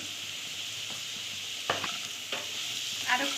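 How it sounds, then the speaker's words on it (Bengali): Knol-khol pieces frying in hot oil with salt and turmeric, a steady soft sizzle with a few scraping stirs of a spatula against the pan, close and alone. "এবার এর মধ্যে আমি নুন আর হলুদ দিয়ে আর একটু ভাজবো।"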